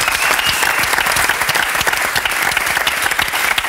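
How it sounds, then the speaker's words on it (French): A television studio audience bursts into loud, dense applause for a contestant on a French talk show, a continuous roar of clapping with scattered cheers from start to finish. "On applaudit."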